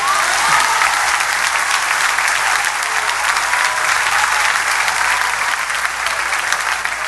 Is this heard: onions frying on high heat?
no